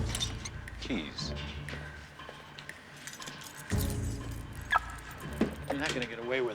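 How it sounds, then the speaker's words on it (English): Keys jangle and clink in short bursts at close range, mixed with a door, movement and people speaking in a dramatic scene. "Keys."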